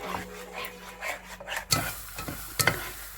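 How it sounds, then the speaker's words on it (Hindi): A spoon stirs khoya in a pan while it cooks down for barfi, soft rubbing scrapes with a faint sizzle, then a few sharper knocks of the spoon against the pan, close and quiet, no speech. "इसका चम्मच मुसलसल हिलाते जाएंगे ताकि ये नीचे ना लगे"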